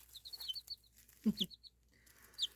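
Small baby chicks in an indoor brooder give a few thin, high chirps and peeps in short bursts, fairly close and soft, with a low soft scuffle partway through.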